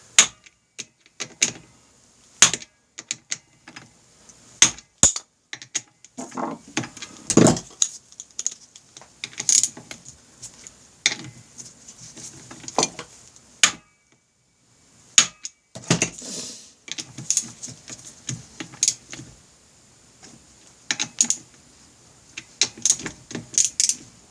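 Bolts on a Honda Rebel 250 clutch are tightened with a ratchet, giving irregular bursts of close, sharp clicking and metallic taps with brief pauses between.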